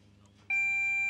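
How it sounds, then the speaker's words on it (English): A sharp electronic buzzer at an archery competition cuts in abruptly and holds a steady, piercing tone over faint background murmur. "The buzzer goes."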